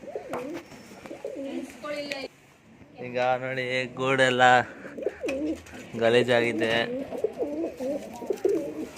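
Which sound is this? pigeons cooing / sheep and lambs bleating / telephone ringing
pigeons cooing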